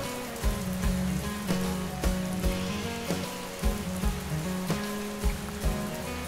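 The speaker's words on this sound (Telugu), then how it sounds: "అక్కడ ఫుల్గా రెయిన్ అయితే స్టార్ట్ అయిందండి" Rain falls outdoors among green trees during a family outing in Pondicherry, a steady spattering wash with recurring soft thumps and a faint low drone underneath, and no voices.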